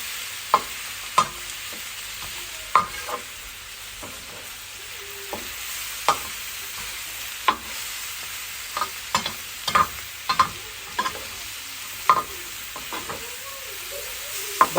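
Onions fry in sauce and fat as a spoon stirs them, scraping the pan in irregular clacks over a soft, continuous sizzle.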